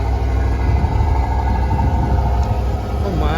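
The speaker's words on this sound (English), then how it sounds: "Oh, love the exhaust." Deep low exhaust rumble from a pearl white GMC Sierra Denali half-ton pickup at a custom truck show, steady and fairly close, with a rising whine near the end.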